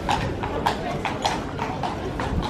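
Horse hooves clip-clop in a steady, even rhythm as a carriage rolls through the streets of Bruges, Belgium, with a voice talking over the regular hoof beats.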